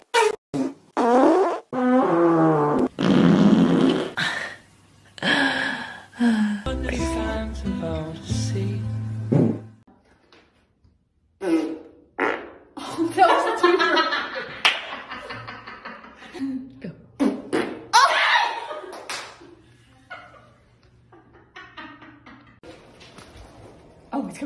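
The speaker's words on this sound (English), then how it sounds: "I fart a lot, a lot." Repeated farts from a woman, loud close bursts of varying length scattered through the stretch, mixed with her chatter and some chuckling.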